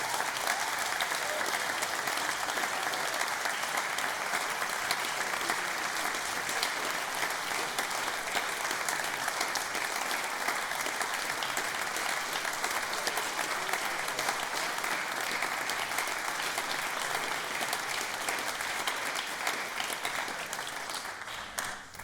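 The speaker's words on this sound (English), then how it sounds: "I would be grateful if you could just join me in a round of applause for our judging panel." An audience at an international music competition applauds the judging panel, dense sustained clapping that stays loud and even for over twenty seconds before tapering slightly at the end.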